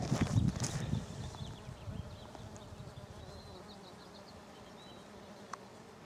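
Saskatraz honeybees buzzing around their hive, a dense close drone with individual bees passing near, louder at first and then settling into a steadier hum, with no talking.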